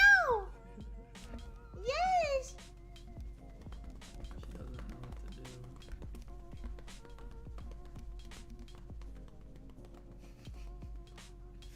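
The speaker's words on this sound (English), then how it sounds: "Meow! Meow!" A house cat gives two clear, rising-then-falling meows near the start, followed by quiet scattered taps and light movement noises.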